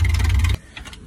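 A Jeep CJ7 engine, just started after restoration, idles loudly with a low, rumbling drone, then cuts off abruptly about halfway through, leaving faint background noise.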